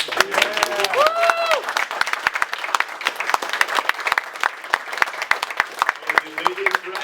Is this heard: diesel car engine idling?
no